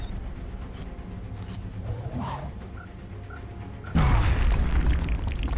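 A quiet, murky stretch in the video game XCOM Long War gives way to a sudden deep grenade explosion, a loud low boom that rumbles on and fills the scene.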